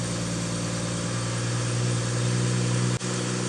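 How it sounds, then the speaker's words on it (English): A BMW M140i engine idles steadily just after a spark plug change, a smooth, even hum heard up close that cuts off abruptly near the end. "I started the engine. It's always good to check that the engine runs smoothly before you put this all back together."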